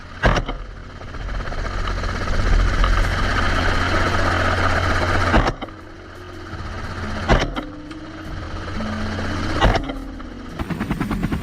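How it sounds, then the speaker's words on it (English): Helicopter flying over farm fields during a wild boar hunt, a loud steady engine and rotor drone broken by several sharp cracks, with the noise dropping briefly then rising again. "The helicopter continued its flight to the neighboring field."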